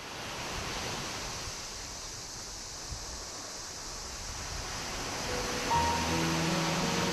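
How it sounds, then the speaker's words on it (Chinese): Ocean surf washes steadily onto an island beach, a broad continuous roar of waves with a slight swell in loudness toward the end, heard alone without voices. "碧蓝的大海"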